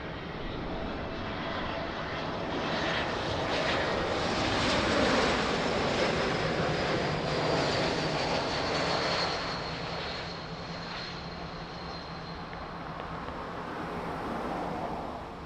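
An airplane lands at Lisbon Airport with a loud, sustained engine roar and rushing wind that swells and then eases slightly, heard steadily from a distance.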